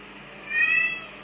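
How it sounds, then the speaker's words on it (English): A house cat gives a single short meow, fairly close and clear, during a doll-parts ribbon-threading tutorial; no talking over it. "Ignore my cat, please."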